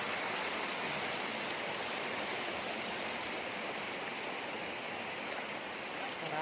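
River water at Hulogan Falls rushes in a steady, dense roar that fills the whole stretch without a break, close and loud, with no one talking.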